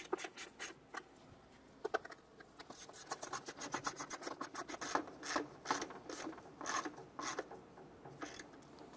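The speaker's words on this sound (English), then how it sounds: "Go ahead and snug down all of our bolts on our intake." A hand ratchet snugs down the intake manifold bolts on a 2008-2012 Honda Accord, with rapid clicking runs in repeated strokes, close and fairly quiet, with no talk.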